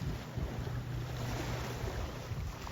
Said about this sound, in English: And boats going by and all that.